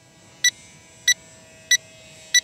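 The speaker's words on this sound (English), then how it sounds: "It's just beeping." Four short electronic beeps from the transmitter of an FMS PA-18 Super Cub RC plane at a steady, even pace over a quiet background hum.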